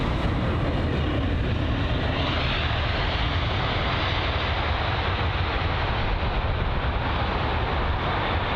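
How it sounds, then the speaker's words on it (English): Loud, steady broadband jet roar from an Airbus A320 with sharklets at London Heathrow, holding close and constant throughout with no talk. "the A320 with sharklets"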